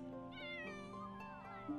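Cats in the Sims 4 game meow in a short, clear, rising and falling cry, fairly loud and alone.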